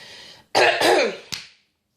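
A few harsh, close coughs and throat-clearing bursts in quick succession, loud and alone, then silence.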